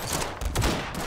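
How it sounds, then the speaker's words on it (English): Gunfire in the video game Garry's Mod during World War II roleplay, a brief, dense burst of rapid shots, loud and close. "There's gunfire going on there."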